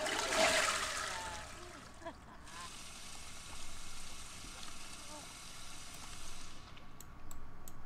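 A toilet flushes in The Sims 4 game, a loud rushing burst of water at the start that settles into a steady trickle and refill, with faint game sounds and speech-like bits underneath.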